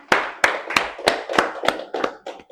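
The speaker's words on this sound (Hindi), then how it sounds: "तालियां बजाओ उसके लिए।" A handful of people clap eight or nine times at a steady pace in a classroom lecture, sharp close claps that slow and thin toward the end, no speech.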